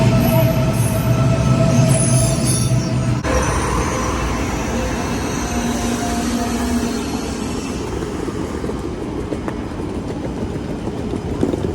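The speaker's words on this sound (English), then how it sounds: "Here's our train." An Alfa Pendular high-speed train rolls along the platform at Lisboa Oriente station with a steady rumble, wheel noise and brief squeals, heard nearby and loud without talk.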